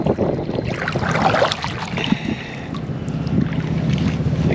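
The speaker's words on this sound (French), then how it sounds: "J'ai un bon petit vent encore." Wind gusting across the microphone outdoors at a small lakeside marina in autumn, with a low rumbling buffeting throughout and no speech.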